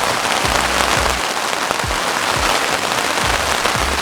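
Hail and heavy rain hammer down during a mountain storm at 2,337 m, a loud dense patter of impacts with scattered heavier thuds, continuous and close, with no voices.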